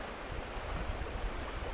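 Fast-flowing water of Penns Creek, a trout stream, rushes in a steady, broad wash close by, with no pauses or voices.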